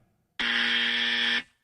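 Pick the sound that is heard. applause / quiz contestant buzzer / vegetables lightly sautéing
quiz contestant buzzer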